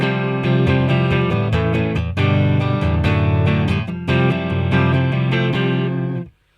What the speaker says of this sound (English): So this is what the clean amp sounds like.